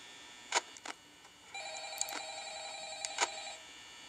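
Old-style telephone bell ringing in the Five Nights at Freddy's horror game, a steady two-second ring after a few sharp clicks, heard alone and close.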